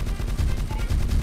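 A machine gun fires in CrossFire's Zombie mode, a rapid, unbroken burst of loud, close shots rattling throughout.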